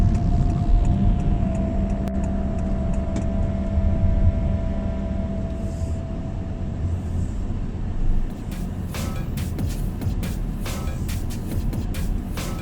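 A 2020 Honda City RS Hybrid pulls away from a junction, heard from inside the cabin as a steady engine and road hum that builds under acceleration. No one speaks.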